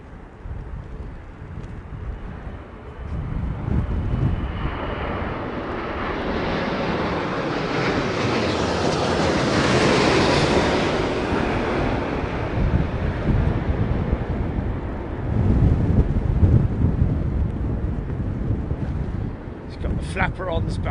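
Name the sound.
Aeromexico airliner on landing approach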